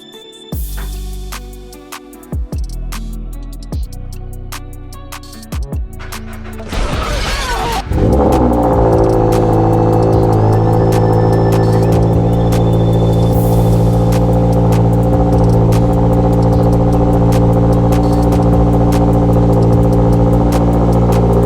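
A 2023 Toyota GR86 fitted with an aftermarket catback exhaust cold-starts: a few clicks and a brief crank, then the engine catches with a loud flare and settles into a steady, loud, close-up high idle drone.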